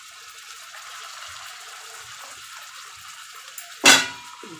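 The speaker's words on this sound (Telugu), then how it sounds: "నేను కొద్దిగా 2-3 టేబుల్ స్పూన్ వాటర్ వేస్తున్నాను." Water poured into a pan of prawns, a soft background hiss ending in one short, bright splashing gush near the end, close and alone without speech.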